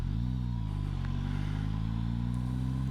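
A 2021 Suzuki GSX-S1000F motorcycle is ridden through a turn in fourth gear, its engine giving a steady low rumble that shifts slightly in pitch near the start, with wind noise throughout.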